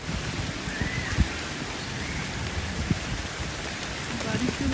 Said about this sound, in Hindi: इतनी तेज़ बारिश स्टार्ट हो गई एकदम से